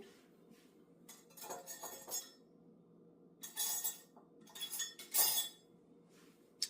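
A metal teaspoon clinks and taps against measuring cups and bowls in a quiet kitchen, with scattered bright clatters in short bursts separated by near silence.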